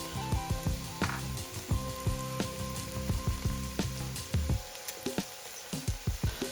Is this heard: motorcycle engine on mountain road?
no